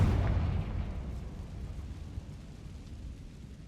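Confringo fire spell explosion in Hogwarts Legacy, a deep rumbling boom that is strongest at the start and slowly fades into a low, quiet roar.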